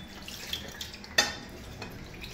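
Dishes are washed in water, with soft sloshing and a few scattered clinks of pots and utensils, one sharper clank standing out partway through.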